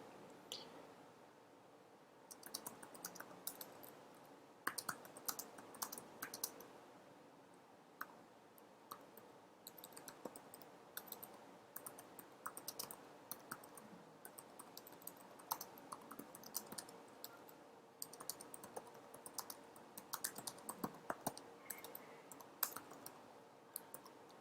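Quiet, close clicking of typing on a computer keyboard while Python code is written: irregular bursts of keystrokes with short pauses, and no talking over it.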